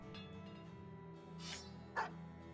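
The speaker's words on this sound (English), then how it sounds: "There, we have a pet dog." A pet dog in the video game Battle Brothers gives a short, faint bark and a breathy whine, a couple of brief yips set against quiet background music.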